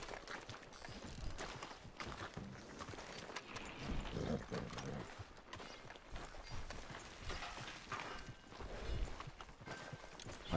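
Horse hooves clip-clop steadily in Red Dead Redemption 2, a continuous rhythmic patter under game music and ambient sound, at moderate loudness throughout.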